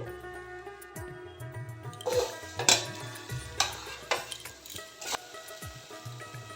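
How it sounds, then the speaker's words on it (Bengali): Scraping and clattering of a spatula stirring potatoes frying on low heat in a pan, with intermittent metallic knocks and a faint sizzle underneath. "লো হিটে আলুগুলো এক থেকে দু মিনিট নেড়ে নেব বা ভেজে নেব"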